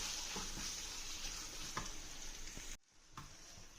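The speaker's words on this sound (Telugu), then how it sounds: "చట్నీ అంతా ఈ తాలింపులో వేసుకొని 2 మినిట్స్ ఫ్రై చేసుకుందాం" Beetroot chutney fries steadily in a hot tempering pan, a continuous close sizzle with soft stirring scrapes, briefly cut to near silence before the frying resumes.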